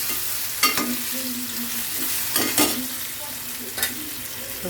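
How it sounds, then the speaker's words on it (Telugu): Ginger and garlic fry in hot oil in a pan, a steady sizzle broken by a few scraping stirs of a spoon, close and fairly loud with no talking. "అల్లం వెల్లుల్లి ఇంకా ఫ్రై చేయాలండి ఇలా."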